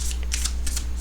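Tarot cards being shuffled in short riffling bursts, crisp papery rustles repeating in close, moderately loud clusters over a steady low hum.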